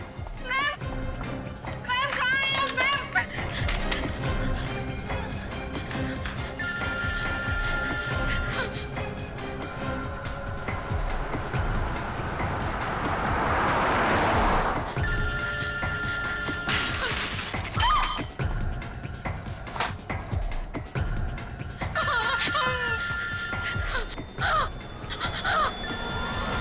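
A telephone rings repeatedly with no answer, electronic tones coming in several separate bursts amid tense voices and background sound in a crime drama scene.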